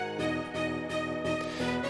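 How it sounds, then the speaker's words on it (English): A synth lead from a remix plays a few sustained, smoothly changing notes washed in lush reverb from the Arts Acoustic plugin, heard alone and fairly quiet. "the Arts Acoustic, my favorite reverb plugin."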